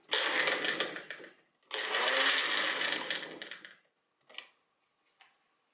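A Magic Bullet blender pulsing garlic cloves: two whining motor bursts of roughly two seconds each, then a couple of short faint blips as it stalls, close and without talk.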